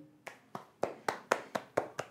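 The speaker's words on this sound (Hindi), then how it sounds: "बच्चों जल्दी से तालियां बजा दो वेल डन" Eight sharp, evenly spaced hand claps from a small group of students in a classroom lesson, fairly close and crisp, with no talking over them.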